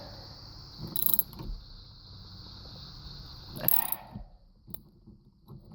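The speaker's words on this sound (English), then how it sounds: "I'm going to start to tighten this one up" A wrench tightens the nut on a Camaro steering wheel installed without a hub, making two brief ratcheting bursts a few seconds apart, close and moderately loud over a faint steady high whine.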